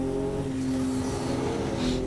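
Car traffic in a driving video game, a continuous engine drone with steady revving tones as vehicles roll along, moderately loud with no talking.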